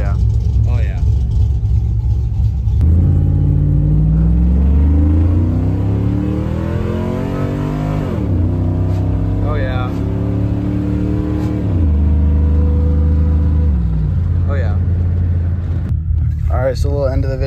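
A Chevrolet Silverado pickup truck with its mufflers removed and an MSD 2-step fitted revs up and down repeatedly in sweeping surges, with a harsh unmuffled roar close by.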